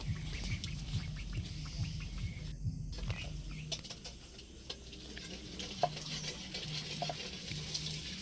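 A single duckling follows someone, its small calls repeating near and fairly faint over steady outdoor background noise, light patter and a low hum.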